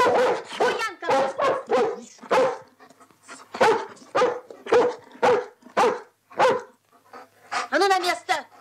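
A dog barks repeatedly in close, sharp bursts during a scene from a 1970 Lenfilm film, with short yips and a whimper among the barks and people's voices heard alongside.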